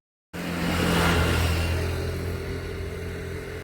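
A rented motorbike in Goa starts up and its engine runs with a steady mid-pitched drone, revving briefly and then settling, close and alone.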